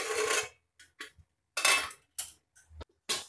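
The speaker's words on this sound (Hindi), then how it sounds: "कुकर में से प्रेशर खत्म हो गया है, अब हम इसका ढक्कन खोल के देख लेते हैं।" A pressure cooker lid is opened after cooking ingredients for paneer gravy: sharp, close metallic clanks and clinks come in separate bursts with short silences between them.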